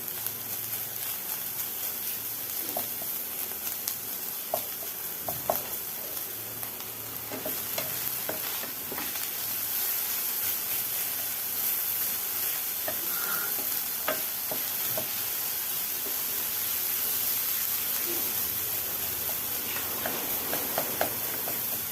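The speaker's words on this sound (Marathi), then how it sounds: "गोळ वितळूपर्यंत आपल्याला परतून घ्यायचं आहे" A jaggery and fresh coconut filling with raisins and charoli is stirred and sautéed in a pan for karanji, a continuous gentle sizzle broken by frequent light spatula scrapes and taps, with no talking.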